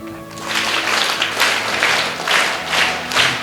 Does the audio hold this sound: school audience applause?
yes